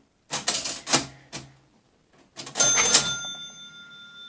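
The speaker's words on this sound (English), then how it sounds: "this is a 1920 National Cash Register" A 1920 National Cash Register with a marble base rings up 40 cents: a loud burst of clattering key and lever strokes, a short pause, then more mechanical clanks ending in a bright, sustained bell ring.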